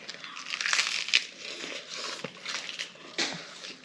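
Fresh napa cabbage crunches crisply in close bites, a series of irregular crinkly snaps and chews over a few seconds with no talking.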